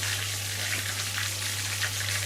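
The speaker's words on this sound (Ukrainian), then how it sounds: "склали ми дрова і будемо зараз їх розпалювати, поливаємо наші дрова сумішю для розпалювання" Firewood soaked with lighter fluid catches fire before lamb shashlik is grilled, giving a steady close crackling hiss over a constant low hum, with no talking.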